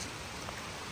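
Rain falling outdoors in steady, dense noise with no distinct drops standing out, a constant wash over about a second with no talking.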